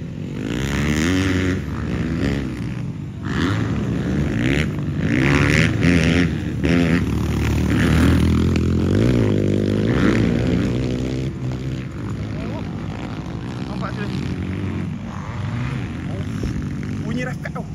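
A Yamaha YZ250F dirt bike engine revs and drones close by, its pitch rising and falling throughout while people talk over it.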